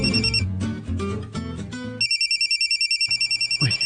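A cellphone rings with a repeating electronic trill after a short burst of louder music, the ring tone pulsing steadily and fairly loud with no talking over it.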